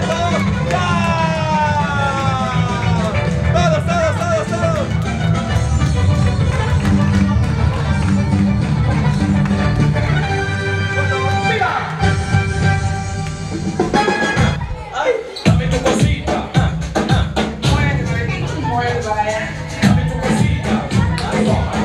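Crowd at a child's third birthday party show cheering and shouting together, loud and sustained, with music and amplified voices mixed in throughout.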